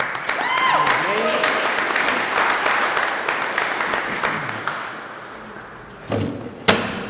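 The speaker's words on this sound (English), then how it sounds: "maybe a round of applause for that also" Audience applause at a poetry and spoken-word show, a dense round of clapping that fades gradually, with a voice speaking over the first part and a few sharp knocks near the end.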